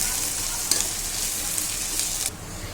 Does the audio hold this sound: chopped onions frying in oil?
yes